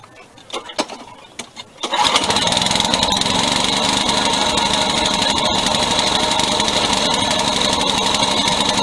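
A Toro lawn mower left at a curb gives a few knocks and pulls, then its engine catches at about two seconds and keeps running, loud, close and steady, to the end.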